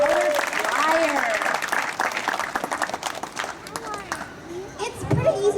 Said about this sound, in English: parrots love applause, so how about a hand for Rio, our brightly colored flyer?